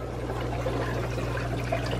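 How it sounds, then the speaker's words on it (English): Water poured from a fry trap back into an aquarium tank, a steady close trickling splash over a low constant hum, no talking. "spill some of the water back, not too much"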